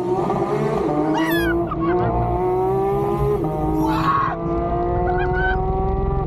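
A Porsche 992 GT3 engine revs loud and close, its pitch climbing through sharp rising sweeps with brief high-pitched bursts, heard alone without talk.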